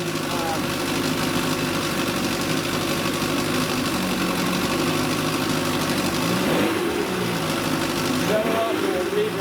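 An early Mercury Mark 55 outboard motor idles steadily and loudly up close after an idle speed adjustment, with a constant mechanical drone and people talking over it.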